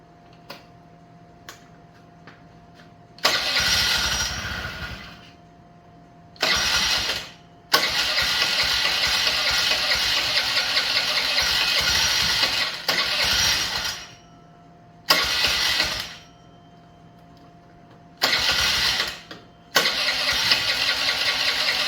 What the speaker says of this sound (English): I'm gonna try to start the bike up. Let's hope that it cranks up.